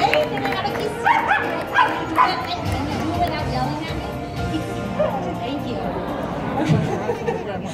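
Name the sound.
dog barking on stage at animal show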